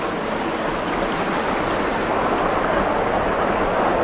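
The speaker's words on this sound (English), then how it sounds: "We're gonna swim over to the waterfall." Waterfall pouring with a steady, dense rush of water heard close and continuous, a broad roar with no voices.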